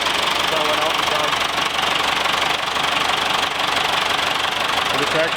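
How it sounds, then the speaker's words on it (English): A Case 1085 tractor engine runs steadily nearby with a loud, rough, knocking drone, while a voice speaks over it. "Well, the tractor sounds pretty good,"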